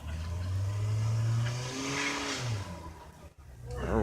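Car stuck in snow during a New York snowstorm, engine revving with tires spinning and whining in long rising bursts, close by, with people talking over it.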